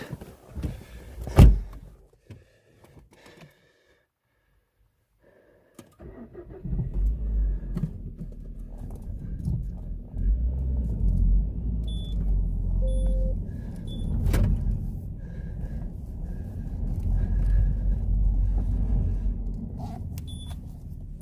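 A Peugeot 307, repaired out in a field, has its engine started after a few clicks and a thump, then it idles and drives off with a low steady rumble that rises and falls close by.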